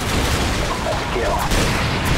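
Gunfire and explosions in the PC game Call of Duty 4: Modern Warfare build a loud, dense, continuous din of overlapping shots and blasts with battlefield noise.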